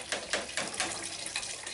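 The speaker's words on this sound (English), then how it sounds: "we'll turn on the water, and the water will run through this filter also" Tap water flushing through a filter into a bucket, a steady broadband rush with soft pulsing surges, moderately quiet and alone without talk.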